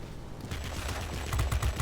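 Machine guns of an XF5U fighter plane firing in World of Warplanes: a rapid, continuous rattling burst that grows louder toward the end, over the plane's engine noise, with no talking.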